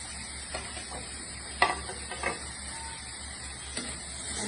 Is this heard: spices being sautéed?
yes